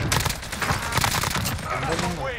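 Rapid AK-47 automatic fire in Call of Duty Warzone: a dense, loud burst of repeated shots over about two seconds, with voices talking over it.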